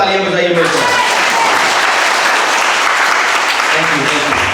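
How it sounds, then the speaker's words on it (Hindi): Loud, sustained congregation applause at a church service, a thick unbroken roar of clapping, with a tonal voice or music briefly audible at the start and end. "आइए यीशु के लिए जोरदार तालियां बजाइए मेरे को।"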